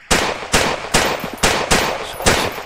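Enemy gunfire in the Arma-style game Freeman: Guerrilla Warfare, six loud, evenly spaced shots about half a second apart, each a sharp crack with a decaying tail, close and without talk.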